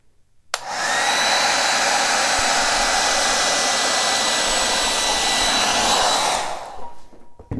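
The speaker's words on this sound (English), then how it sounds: "See if I can do it with the hair dryer." A hair dryer blows acrylic pour paint with a loud, steady roar at close range for about six seconds, then switches off and winds down.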